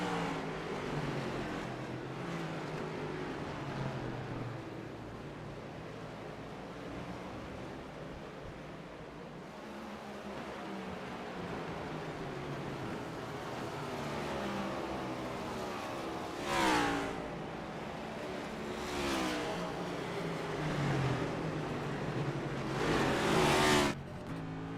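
Race cars run laps on an oval track, a steady distant roar of engines with several louder passes sweeping by up close toward the end, no voices over it.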